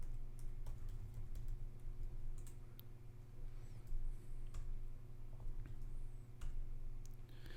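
Password typed on a computer keyboard to log in over SSH, a run of quiet, close key clicks in uneven bursts over a low steady hum.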